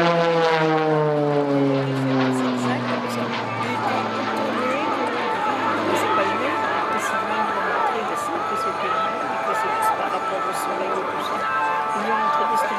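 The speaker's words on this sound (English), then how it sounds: "the Tango 6 will stay in front of you with its maximum speed" A T-6A Texan II propeller aircraft roars past at high speed during an air display at RIAT, its engine pitch dropping as it passes close by and then fades into a sustained drone.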